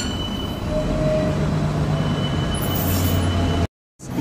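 A London tram runs along its line, a steady rumbling roll with faint squealing tones from the wheels, close and continuous before cutting abruptly to silence near the end.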